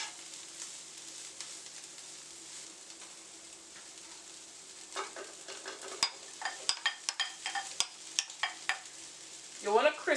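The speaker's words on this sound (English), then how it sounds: "we're going to add the okra and fry it up" Okra added to sautéed kale in a pan sizzles with a soft, steady hiss that grows busier, punctuated by sharp utensil clinks and scrapes toward the end.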